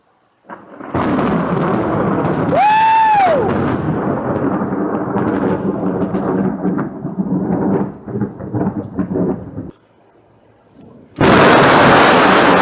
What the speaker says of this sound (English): I got 2 really good close lightning strikes in a beautiful nighttime thunderstorm